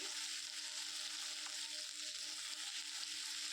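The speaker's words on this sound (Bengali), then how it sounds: "তারপরে একটু এটাকে ভালো করে নেড়ে চেড়ে নিচ্ছি" Ginger garlic paste fries in a pan, giving off a soft, steady sizzle while it is stirred, quiet and close with no voices.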